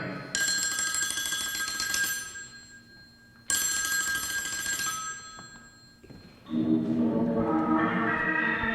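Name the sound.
telephone ringing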